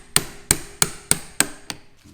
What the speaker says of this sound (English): I'm actually going to use the hammer method on that